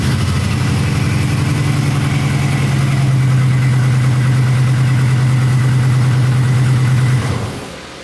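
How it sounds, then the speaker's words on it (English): A 2004 Chevy Silverado truck engine idles steadily and loud at close range with a constant low hum, then cuts off near the end. "That's to prove the truck does start and run"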